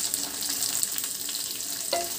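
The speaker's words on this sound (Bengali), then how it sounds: "টমেটো পিসগুলো দিয়ে আবার একটু এগুলো ভেজে নেব।" Tomato pieces sizzle and fry in a pan for tomato rice, a steady bright crackle with occasional scrapes and stirring knocks up close, no voices present.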